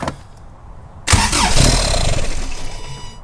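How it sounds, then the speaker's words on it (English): A Toyota 22RE four-cylinder engine cranks over on a cold start after a quiet pause, with loud, steady, chugging starter-motor cranking that runs for about two seconds and then begins to fade. "The motor obviously was going to turn over and I turned it off quickly"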